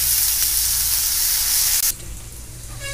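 Finely chopped onion frying in a pan while being stirred, a steady loud sizzle and hiss that drops a little quieter partway through.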